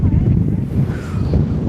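Strong wind blows across the Mongolian desert, loud buffeting gusts roaring hard against the microphone in a heavy low rumble that never lets up.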